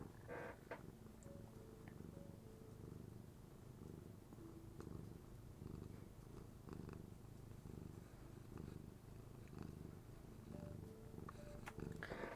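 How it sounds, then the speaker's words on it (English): A cat purring steadily and softly up close, a continuous low rumbling rhythm with faint background rustles and no speech. "Can you hear her purring?"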